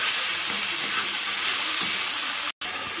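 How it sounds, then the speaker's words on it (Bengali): Ground spice paste stirred in hot oil for chicken rezala, a continuous close sizzle and hiss with faint scraping of the spoon, steady and fairly loud, broken by a brief dropout near the end. "এবার ভালো করে তেলের সাথে মশলাটা এভাবে নাড়াচাড়া করে নেব।"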